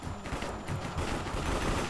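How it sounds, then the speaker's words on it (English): Gunfire crackles in the Minecraft Cops and Crims minigame, dense and continuous for a couple of seconds at a moderate, even level. "Someone's shooting."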